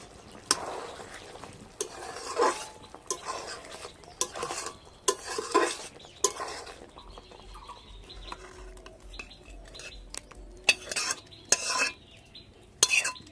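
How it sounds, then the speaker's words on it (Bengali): A spoon scrapes and stirs a pan of paneer and bottle gourd curry finished with ghee and garam masala, giving a run of sharp, irregular clinks and scrapes over a faint background sizzle. "আর নামানোর আগে দিয়ে দিচ্ছি 1 চামচ মতো ঘরের গাওয়া ঘি। ব্যাস, এবার একটু নাড়াচাড়া করেই নামিয়ে নেব।"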